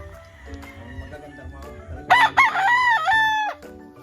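Chickens and a rooster on a Filipino backyard farm, soft clucking and bird calls giving way to one loud, close rooster crow that rises and holds before trailing off.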